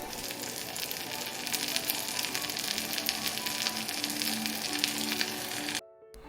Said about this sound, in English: You can sear the legs right away or after chilling.